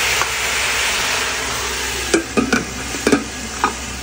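Vegetables for lumpia hiss steadily as they steam in a hot pan, a continuous close sizzle broken late by a few short clattering stirs or scrapes.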